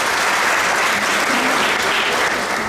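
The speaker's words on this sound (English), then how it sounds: "Can you give them a round of applause?" Audience applause at a kindergarten graduation ceremony, a dense, loud, continuous clapping from a crowd filling the whole moment without letup.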